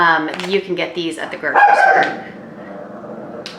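A pet dog barks several times, sharp and close, in a home setting while someone talks over it; the barking fades into quieter yips toward the end.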